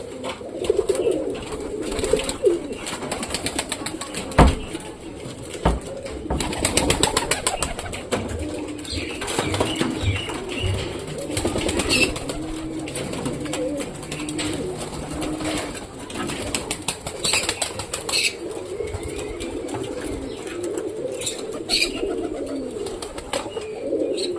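Pigeons coo and rustle close by throughout, with a sharp burst of wing flapping as a pair take off partway through, over steady background noise.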